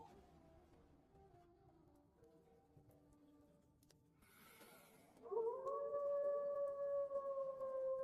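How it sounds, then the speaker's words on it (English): Wolves howl in the distance in a quiet night setting, a faint low call first, then a louder sustained howl rising and holding for several seconds alone. "Mr. Hogg, did you hear that? There are wolves."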